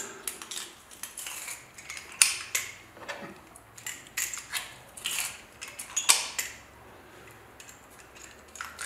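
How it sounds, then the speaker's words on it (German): Garlic pressed through a metal press into a bowl while making tzatziki, a series of scattered metallic clicks, creaks and scrapes of varying loudness, heard close up with no talking. "Und dann drücken wir uns den Knoblauch da rein."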